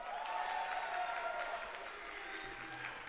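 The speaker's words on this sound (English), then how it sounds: "give a cheer for EGMachine" An audience at a StarCraft II tournament at MLG Dallas 2010 cheers and applauds, a dense wash of clapping and crowd noise sustained throughout, steady and fairly distant.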